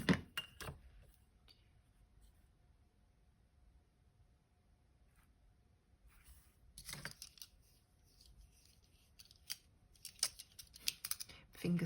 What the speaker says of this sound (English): Let's cut a couple of 1/2 inch strips.